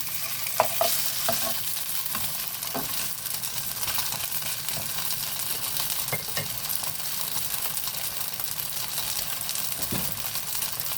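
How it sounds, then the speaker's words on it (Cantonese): Turnip cake slices pan-frying in a pan with a steady, loud, close sizzle throughout, a few light clinks of a utensil touching the pan scattered over the frying. "擺埋佢再煎"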